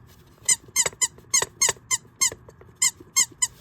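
A squeaker postcard pinched again and again, giving about a dozen short, sharp squeaks in an uneven rhythm, close and clear against a quiet background.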